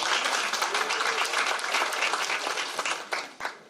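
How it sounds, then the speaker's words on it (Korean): Dense, loud applause from an audience at a Justice Party Gyeonggi provincial chair election event fills the whole stretch, steady throughout with a couple of sharper swells near the end. "박수 한번 드리겠습니다."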